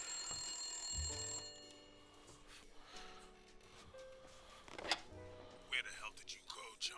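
A telephone rings in the video game Blacksad: Under the Skin, a tonal bell ring sounding under background music and mixed with other game sounds and speech.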